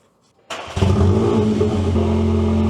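A VW MK8 Golf R fitted with a CTS valved catback exhaust cranks and starts after a short quiet moment, then settles into a loud, steady, deep idle drone close by.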